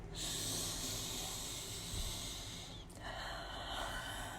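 Breathing noisily through one nostril, congested from rhinitis, gives a steady hissing, snorting airflow close to the mic that shifts in tone partway through, with no talking.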